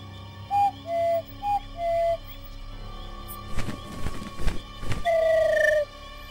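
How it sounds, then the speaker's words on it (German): Whistle in the video game Harveys Neue Augen, heard as a clear sequence of short, two-toned whistle blows, a rustling pause, then one longer sustained note over a faint musical background. "Nee, das ist die Pfeife."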